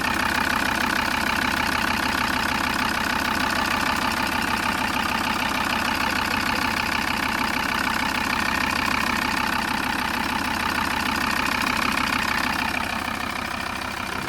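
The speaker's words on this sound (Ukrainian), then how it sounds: "Двигун працює добре." A Volkswagen T4 Transporter van with a 2.5-litre 75 kW engine idles steadily and close, a continuous even rumble with a rapid regular ticking texture, no voices.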